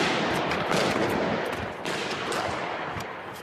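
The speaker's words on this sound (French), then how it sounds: "Les tirs nourris résonnent alors" Heavy, sustained gunfire in a building shootout during the Charlie Hebdo attack, a dense run of overlapping shots heard from a distance and echoing without a break.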